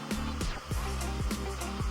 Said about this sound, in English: our Vision Blow Dryer